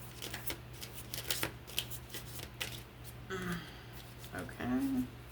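Tarot cards being shuffled by hand in a series of soft, papery riffles and slides, fairly close and moderately quiet, with brief bursts of activity near the end.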